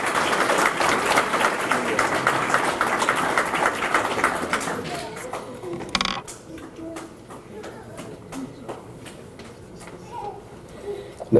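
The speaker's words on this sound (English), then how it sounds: "Give Desiree a round of applause." Clapping from a banquet crowd as a scholar is called up, sustained for about five seconds before dying off into murmuring voices and occasional stray claps.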